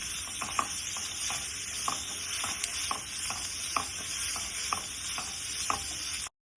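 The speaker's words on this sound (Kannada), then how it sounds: "ಇವಾಗ ನಾನು ಇದನ್ನ ಲೋ ಫ್ಲೇಮ್ ಅಲ್ಲಿ ಹುರ್ಕೊಂತೀನಿ." Chicken masala frying on low flame in a pan, a soft steady sizzle broken by regular scraping stirs, close but quiet, ending in sudden silence, no voices.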